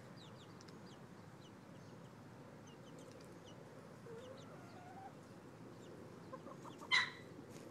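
A backyard flock of chickens clucks faintly in the distance over a quiet outdoor background, with a brief louder squawk near the end.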